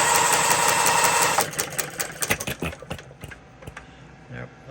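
A small Coles engine chugs at a slow speed, with a loud, steady whirring that gives way to uneven puffs and knocks as its fuel mixture is adjusted, some faltering gaps in between.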